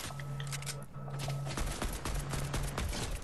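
Gunfire in the Fortnite video game, a rapid run of sharp shots in quick bursts over a constant hum, fairly quiet overall.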